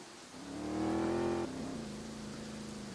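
A car engine revs in a Roblox driving game, the Southwest Florida beta, climbing to a loud, steady whine before dropping abruptly to a lower sustained drone. No one talks over it.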